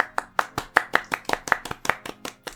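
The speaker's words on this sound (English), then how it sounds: "Let's all clap." A few podcast hosts clap together in a small room, a quick, close series of sharp, dry hand claps in a loose, slightly uneven rhythm with no other sound.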